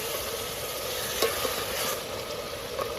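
Spices and bay leaves sizzle steadily in oil over a low flame, a soft continuous frying hiss with a few faint stirring clicks, close and without voices.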